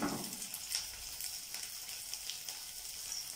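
Cauliflower pieces for gobi manchurian deep fry in oil, giving a soft, even bubbling sizzle at low level with faint crackles throughout and no talking.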